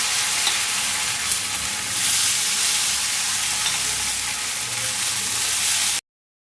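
Uttapam batter, topped with onion, tomato, chili and coriander, sizzling and frying on a hot pan: a steady, loud, close crackling hiss that continues for about six seconds and then stops abruptly, with no voices.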